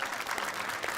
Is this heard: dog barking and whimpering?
no